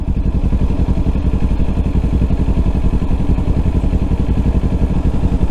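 A motorcycle engine chugs loudly and steadily on a gravel park road in Knob Noster State Park, Missouri, its rapid even pulsing close and constant with no talk over it.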